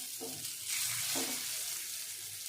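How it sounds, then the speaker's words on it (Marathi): Alu vadi, rolled colocasia-leaf and gram-flour slices, shallow frying in a small amount of oil, giving a steady bright sizzle with a couple of soft bumps from the pan or spatula. "मी जास्त तेल टाकणार नाही थोडंसंच तेल टाकलेलं आहे आणि शालो फ्राय करून घेऊया"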